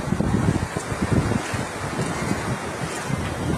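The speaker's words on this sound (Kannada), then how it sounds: "ವೇವ್ಸ್ ತುಂಬ ಜಾಸ್ತಿ ಆಯ್ತು" Surf on a beach where the waves are running high, a loud continuous wash with rolling low surges and wind buffeting the microphone, no voices.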